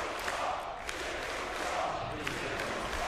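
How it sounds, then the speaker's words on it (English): Esports arena crowd at the Dota 2 Kiev Major 2017 cheering and roaring as a steady, dense wash of noise, with brief swells throughout, all close and continuous. "this crowd is really feeling it right now"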